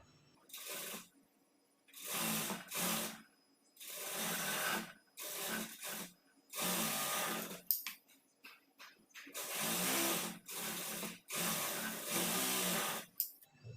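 A sewing machine runs in repeated bursts of rapid stitching along a blouse sleeve seam, each run lasting a second or two with short pauses between, close and fairly quiet.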